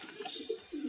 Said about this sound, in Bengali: তো এটা হচ্ছে নর পায়রা।